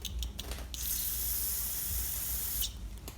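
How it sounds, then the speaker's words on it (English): Carburetor cleaner spray hisses loudly and continuously for about two seconds on a Briggs and Stratton L-head carburetor, bracketed by a few short clicks and bursts before and after. "But I'm also going to use carb spray"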